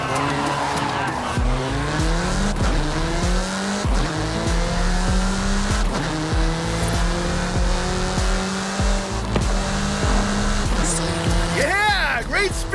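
A sports car in Forza Horizon 5 revving hard through repeated gear shifts, engine pitch climbing and dropping, with tire squeal near the end; a voice talks over it.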